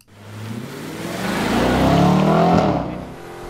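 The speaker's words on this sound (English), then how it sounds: "This time we're going to let the engine do most of the talking." A 2013 Audi RS 5 engine pulls hard around Sonoma Raceway, its loud, close roar climbing steadily in pitch as it accelerates, then easing slightly near the end.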